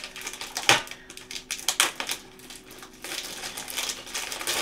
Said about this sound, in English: Let me try to rip this open here real quick.